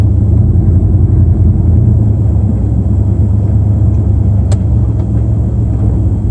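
A truck fitted with a lunch box locker turns on wet pavement in the rain, producing a loud, continuous low rumble of engine and tires inside the cab, with one brief sharp click partway through.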